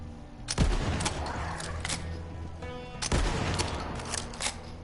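Two heavy shotgun blasts from a new weapon in Borderlands 3, about two and a half seconds apart, each with a sharp boom and ringing tail, over a steady bed of game music.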